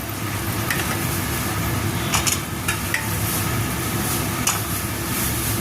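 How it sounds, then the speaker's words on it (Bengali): Potatoes being added and stirred into a pot of Kolkata chicken biryani, a constant loud sizzle of frying with a few clinks and scrapes of the spoon on top. "এবার আলুগুলো সব দিয়ে দিচ্ছি।"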